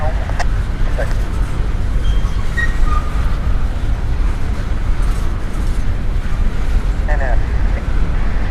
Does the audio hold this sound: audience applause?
no